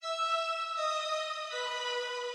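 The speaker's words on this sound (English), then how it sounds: "this horn sample I used, and it sounds like this" A horn sample from an old analog synth plays a sustained, bright, harmonically rich tone that shifts pitch between held notes, steady and loud throughout.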